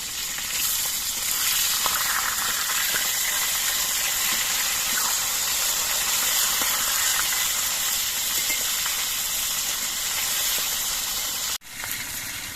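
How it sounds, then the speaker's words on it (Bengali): Steady, loud sizzling of fish heads frying in hot oil, a continuous crackling hiss with a brief dip near the end. "মাথাগুলো এক পিঠ কিছুক্ষণ ভাজা হওয়ার পর আমি উল্টে দিচ্ছি"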